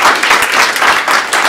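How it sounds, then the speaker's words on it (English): Loud, close applause from an audience at a community discussion on healthcare, many hands clapping in a thick, continuous wash with slight surges. "Yes, give him a round of applause."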